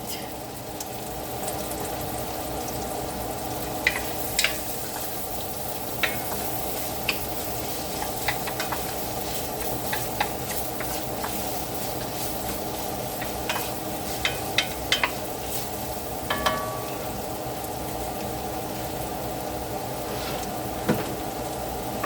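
Meat sizzles and fries in a hot pan at home, a steady quiet hiss with scattered small pops and occasional stirring clicks, heard without talk.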